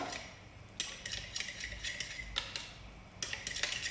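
A spoon clinks and scrapes against a pot while stirring a carrot vegetable soup mixture with flour, a quiet series of irregular light metallic taps and rattles with no talking.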